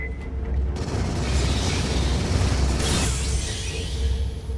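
A grenade blast in Aliens: Fireteam Elite, a heavy booming rumble that rolls on loudly for several seconds, swelling again partway through with a rushing whoosh.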